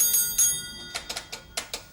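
Railway signal box bells from an old bells-and-levers system, a short run of sharp metallic dings, two louder strikes followed by a quicker series of lighter taps, close and clear.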